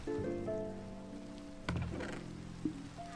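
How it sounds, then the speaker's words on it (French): Steady rain patters in a video game, a soft continuous wash under tonal game music, broken by a sudden thump partway through and a small knock near the end. "je sais pas si la pluie s'arrête"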